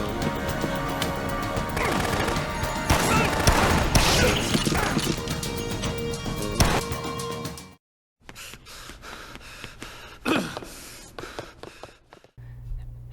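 Gunfire from a rooftop shooter in the Dead Rising video game, loud, dense and chaotic for several seconds with sharp cracks and crashes, then a brief silence before quieter scattered shots and impacts.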